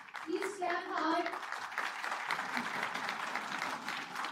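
An audience at a Thapar Institute of Engineering & Technology university ceremony breaks into steady, sustained applause, many hands clapping together as a voice briefly speaks over the start.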